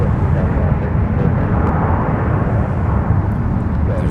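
Southwest Boeing 737 MAX 8 jet landing at MSP airport, a steady, loud broadband roar of jet engines holding close and constant throughout.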